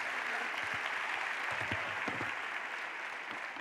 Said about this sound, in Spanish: Si quieren aplaudir, pueden aplaudir.